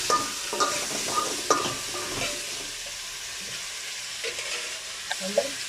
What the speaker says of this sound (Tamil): இப்போ வந்து காயெல்லாம் வதக்கி